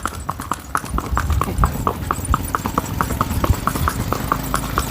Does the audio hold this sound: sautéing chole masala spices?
no